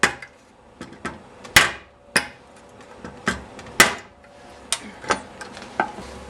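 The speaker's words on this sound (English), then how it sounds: "just get a regular hammer and hit against it" A regular hammer drives a steering head bearing cup into its recess on a motorcycle frame, a series of sharp metallic strikes at uneven intervals, close and alone.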